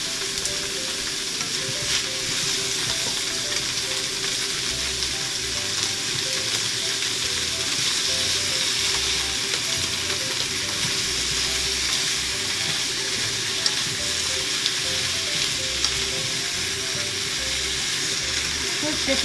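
Pork belly sizzles loudly in a pan while being stir-fried, a continuous crackling hiss close up with occasional light scrapes and taps of the utensil, steady for the whole stretch.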